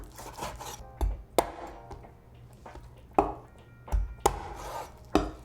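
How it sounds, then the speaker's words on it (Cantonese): Chicken drumsticks being chopped into pieces with a cleaver on a board for a Cantonese clay pot dish, a few sharp, separate chops spaced irregularly, close and fairly loud, with no talking. "We'll chop each drumstick into 3 to 4 similar sized pieces and discard the very end piece."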